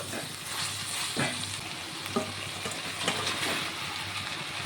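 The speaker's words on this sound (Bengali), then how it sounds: "এখন আমি ভেজে রাখা ডিমটিও দিয়ে দেবো" Fried eggs go into a pan of spiced potato curry, bringing a steady oily sizzle with a few sharp clinks and scrapes of stirring. The cooking sounds are close and continuous, with no talking.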